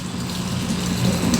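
Water sprays from a sprayer nozzle pressed against a person's head while washing braided hair, a steady close hiss and gurgle with no pauses.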